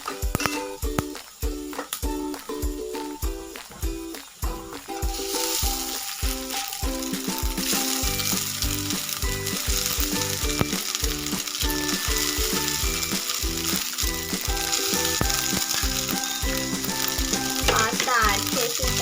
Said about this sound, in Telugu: తర్వాత ఒకసారి మిక్స్ చేస్తున్నాం వెజ్జెస్ అన్నీ కూడా పాస్తాకి పట్టేటట్టు